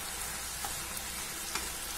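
Banana flower poriyal stir-frying in a pan gives a soft, steady sizzle with a few faint scrapes of stirring. No one speaks over it.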